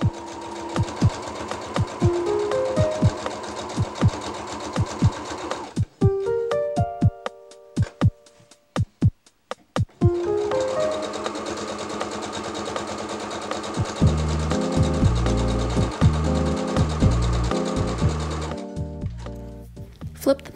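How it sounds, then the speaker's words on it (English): A sewing machine stitches the side seams of a patchwork bag with a 1/4 inch seam allowance, running in steady bursts with short pauses between. The rapid mechanical chatter is close and fairly loud, with no talking. "with the wrong sides facing together, sew along the sides of the bag with a 1/4 inch seam allowance"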